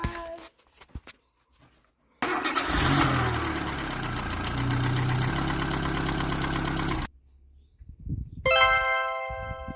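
A car engine cranks and catches, then runs steadily at idle with a brief rev after radiator coolant bleeding following a timing belt kit replacement; it cuts off, followed by a short high-pitched beeping.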